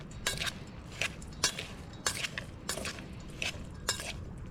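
A cabbage and lettuce salad dressed with vinegar and pepper being tossed outdoors, with repeated light clinks and scrapes of utensils against a bowl in an irregular rhythm, close and moderately quiet with no talking.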